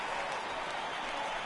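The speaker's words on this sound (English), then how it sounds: "I can hear the crowd murmuring now" Baseball stadium crowd in MLB The Show 18 murmuring, a steady, broad wash of massed voices and light clapping that holds even throughout, with no single voice standing out.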